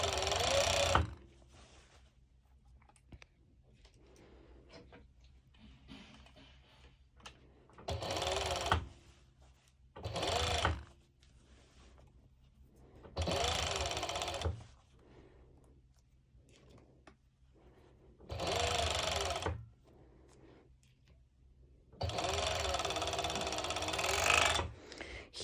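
A sewing machine stitches a cut-out cropped top in five short bursts of loud rapid whirring, each lasting one to three seconds, separated by quiet pauses with faint handling noise.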